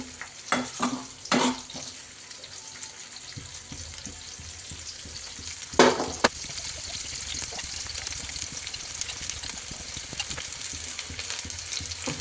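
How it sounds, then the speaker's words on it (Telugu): Food fries in hot oil in a pan, giving a continuous crackling sizzle, with a few sharp clatters early on and a burst of stirring around the middle. "ఆయిల్ అయితే బాగా వేయించుకోవాలండి"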